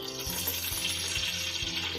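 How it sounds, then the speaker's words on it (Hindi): Oil heating in a cooking pot (bhagona) for Mughal biryani with chickpeas and soy chunks, giving a steady sizzle with soft repeated low knocks roughly every half second, close and fairly loud, with no voices. "इसको बनाने के लिए एक भगोना रखें, फिर उसमें गरम करके तेल डालें"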